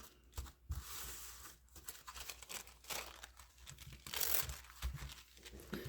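Paper trimmed at the bottom of a wallpaper junk journal page, with close, quiet cutting snips and crinkling rustles in short bursts, no voice.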